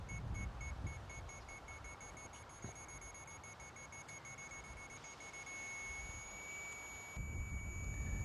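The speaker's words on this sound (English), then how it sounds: "Once the minimum threshold of 53 dBs is reached, a long sound beep is heard." A BGAN satellite terminal beeps in a quick repeating pattern while pointing, then merges into one long continuous tone on reaching signal threshold, faint over a quiet background hiss.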